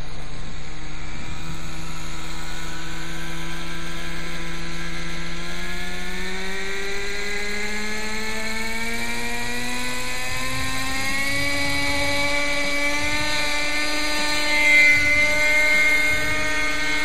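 A Quickie 18 model helicopter lifts off from a small pad, its steady electric whine climbing in pitch as the rotor spins up, loud and close, with no talk over it.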